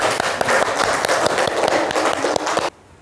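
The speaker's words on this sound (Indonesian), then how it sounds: "Tepuk tangan untuk kelompok pengurai" A class claps for the decomposer group of students, a dense burst of many hands at steady loudness that cuts off sharply near the end, leaving near silence.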